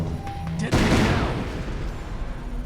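A single loud explosive detonation in Syphon Filter: Dark Mirror, a sharp boom that swells and then rumbles away into a long decaying roar, with voices talking around it.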